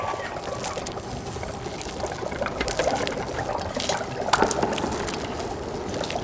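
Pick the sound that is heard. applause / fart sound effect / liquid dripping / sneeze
liquid dripping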